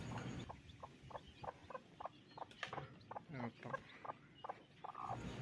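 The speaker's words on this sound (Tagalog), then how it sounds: "Isa pong healthy sisiw ang lumabas mula sa itlog." A newly hatched chick gives a steady series of small, high peeps, close and fairly quiet, with a soft voice talking under them near the end.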